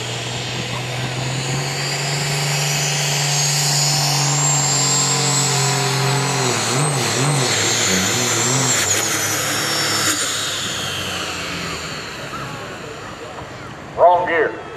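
A diesel work stock truck roars down the pulling track at a county fair, a loud sustained engine drone that climbs and wavers before easing off, followed by a brief burst of crowd noise near the end.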